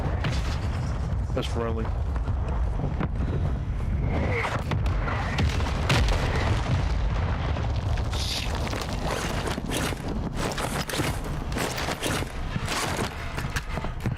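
Airstrike explosions roll through a Call of Duty: Warzone 2.0 match, a dense continuous wash of booms and rumble with scattered crackling bursts, while players talk over it.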